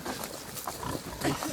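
Pigs grunting and snuffling in a no-till permaculture field, a run of low close grunts over rustling ground noise, continuous and fairly loud.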